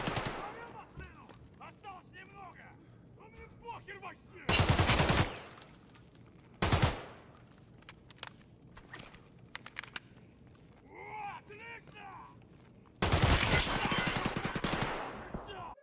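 Bursts of gunfire and grenade blasts in a hardcore-mode shooter video game: loud broadband explosions and rapid shot volleys around 4.5, 6.5 and 13–15 seconds, separated by quieter stretches of footsteps and small game sounds.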